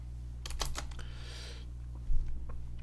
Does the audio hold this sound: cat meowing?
no